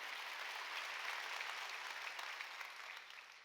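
A church congregation applauds during a Sunday worship service, a steady wash of many hands clapping that fills the room at moderate level and tapers slightly at the end.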